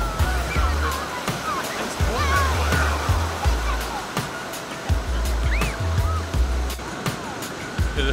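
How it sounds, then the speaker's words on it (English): Ocean waves break and wash continuously at Ocean Beach in San Diego, a loud steady surf roar with repeated crashing surges up close, no voices heard. "So the waves are breaking pretty nicely, pretty decent actually."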